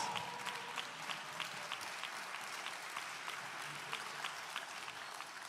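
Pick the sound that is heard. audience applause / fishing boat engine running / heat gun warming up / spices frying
audience applause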